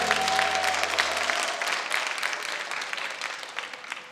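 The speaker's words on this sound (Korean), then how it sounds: "박수." A church congregation claps during a Sunday afternoon praise service, a dense burst of applause that starts right after a held sung note and slowly fades over a few seconds.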